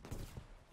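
Grenade detonation in the shooter Battlefield V, a short muffled low boom with rumbling gunfire-like crackle, heard close and loud with no talk over it.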